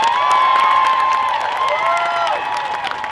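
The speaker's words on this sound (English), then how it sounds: "Please give them a round of applause" A large crowd at the March for Our Lives rally in Washington, DC cheers and whistles loudly, a sustained roar with rising and falling whoops.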